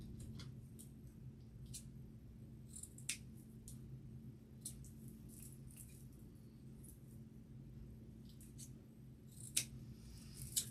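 Scissors snip ribbon tails on a wreath with faint, sparse clicks and cuts scattered over a steady low hum, soft and intermittent, with no talk.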